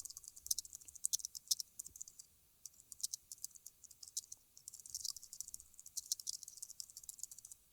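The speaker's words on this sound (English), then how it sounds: "I'm going to type in my introductory message so people know what this" Fast typing on a computer keyboard, with many light, crisp key clicks in uneven bursts and short pauses, close and quiet, with no voice.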